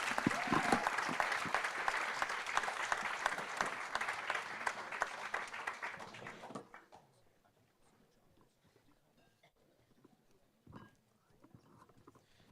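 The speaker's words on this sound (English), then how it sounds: "please give a round of applause for the" Applause for a panel at a green economy forum, a steady wash of clapping from the audience that stops abruptly, leaving near silence with a faint thump.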